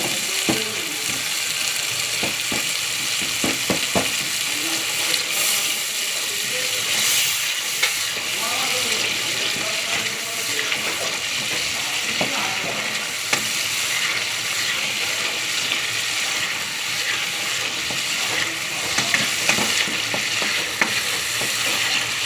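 Garam masala paste sizzling in an oiled pan while it is stirred for a pointed gourd kurma: a steady frying hiss throughout with frequent scraping and clinking strokes from the spoon against the pan, close and continuous.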